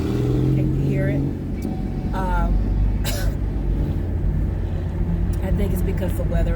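An older model car drives past with a rumbling engine that swells and fades, heard near and fairly loud, while voices talk over it.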